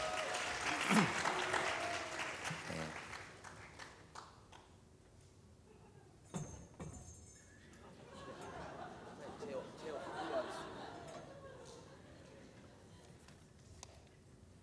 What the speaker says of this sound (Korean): 박수로 맞이할게요.